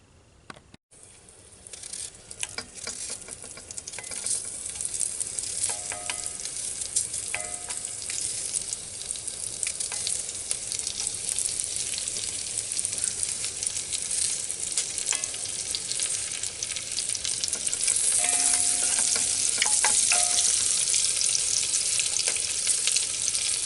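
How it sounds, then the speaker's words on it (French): Small onions sizzle in olive oil in a pan in a camper van kitchen, a continuous close crackle with stirring scrapes and occasional faint clinks, growing slightly louder over time. "Alors là on va ajouter les petits oignons qu'on va faire revenir un peu. On va mettre un peu d'huile d'olive avec."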